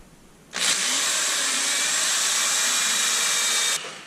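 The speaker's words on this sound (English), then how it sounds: "This is a 1 3/4 inch bit that I'm using right here, and I'm going to just punch some holes out of this real quick." A power drill with a 1 3/4 inch bit bores holes through 1/2 inch HDPE for a kayak paddle holder. The drill starts abruptly and holds a steady, loud whirring grind for about three seconds before stopping.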